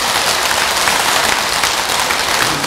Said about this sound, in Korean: 크게 박수를 한번 해주시고